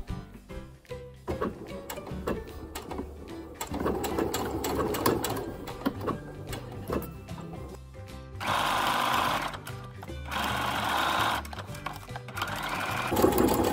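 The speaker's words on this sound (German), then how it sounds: "Nähe langsam und schau immer, wo du nähst." A sewing machine slowly stitching a dart in dress fabric, with a fast mechanical chatter that speeds up in louder bursts and slows near the point, heard close and on its own.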